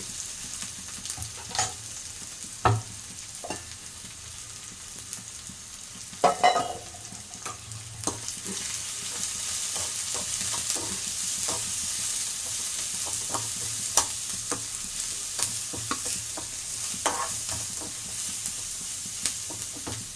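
Cumin, garlic and curry leaves fry in hot oil for an ivy gourd stir-fry, giving a steady close sizzle throughout, broken by scattered clinks and scrapes of a spoon stirring the pan.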